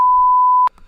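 A single sustained electronic beep at one steady high pitch, loud and close, holding for well over half a second during a tense confrontation at a Star Wars shop, then cutting off into faint background noise.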